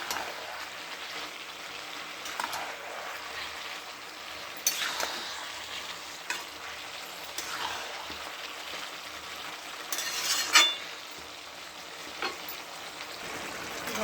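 Cabbage stir-frying dry in a pan with spice paste, a steady soft sizzle with scattered scraping and stirring clatters of a spatula, moderately close and without talk.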